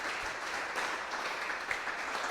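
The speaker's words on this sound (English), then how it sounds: "I want to ask our audience so that they give an applause to you to welcome you" An audience applauds steadily to welcome a guest, a dense even wash of clapping that holds at a moderate level throughout without any talk.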